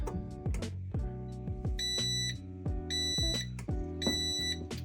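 Three electronic beeps from a heat press, spaced about a second apart, ringing out over a busy, rumbling background.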